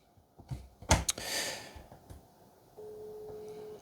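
A call notification on a Google Pixel Watch, with a short burst of clicks and rustle followed by a steady electronic ring tone that holds through the final second, quiet and close.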